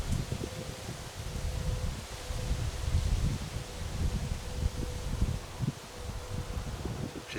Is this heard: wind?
yes